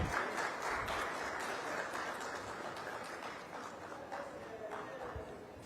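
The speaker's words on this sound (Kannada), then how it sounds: "ಜೋರಾಗಿ ಚಪ್ಪಾಳೆ ತಟ್ಟೋದ್ರ ಮುಖಾಂತರ" An audience at a large real estate expo in Bengaluru claps steadily for several seconds, a dense, even wash of applause with no speech over it.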